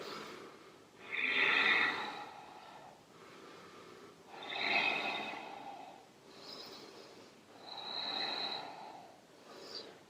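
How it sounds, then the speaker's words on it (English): Slow, deep yoga breathing during a Hatha flow: three long audible inhale-exhale cycles of soft airy rushing, close and gentle, with quiet gaps between. "And breathe. 4 breaths."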